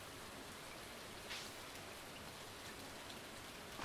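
Steady rainfall in the farming game Stardew Valley, a constant even hiss of drops on the ground with no other sounds, holding a uniform level throughout.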